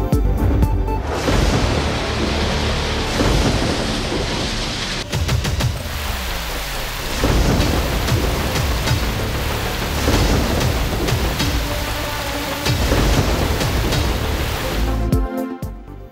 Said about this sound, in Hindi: एक 123 मिलीमीटर की तूफानी बारिश।